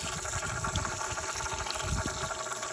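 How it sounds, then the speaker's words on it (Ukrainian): Water runs steadily from an outdoor tap at a home paddling-pool setup, a continuous splashing rush at close range with no talk over it. "Підемо до крана за водичкою."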